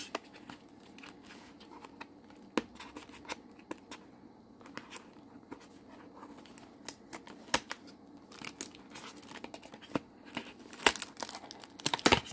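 Paper crinkles and tears as a wrapped advent calendar gift is opened, with sharp intermittent crackles and rips over a quiet rustling background, close and fairly soft.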